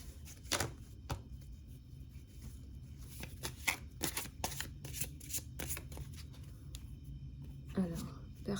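Osho tarot cards shuffled and flipped over in quick papery riffles and soft slaps, close and fairly quiet, with a few sharper snaps near the end and a low murmur of background talk.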